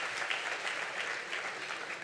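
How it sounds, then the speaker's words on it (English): Steady, dense applause from a large audience at an evening awards dinner fills the room evenly, with no gaps and no voices. "if we can give just a round of applause to Mary Huss"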